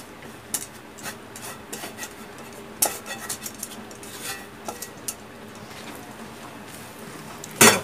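Coconut being stirred into thick jaggery syrup in a pan for kamarkattu sweets, giving scraping, rasping spoon strokes against the metal in irregular bursts, close and moderately loud, with a sharper scrape near the end and no talking.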